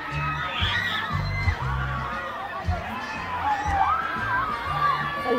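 Schoolchildren shouting and cheering on a field trip, a lively crowd of young voices whooping and screaming in overlapping bursts, close and loud throughout.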